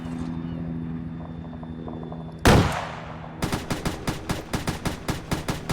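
A .50 cal machine gun hammers away in Arma 3, firing a steady run of loud, evenly spaced heavy shots after one big blast. A low helicopter-like drone hums underneath throughout.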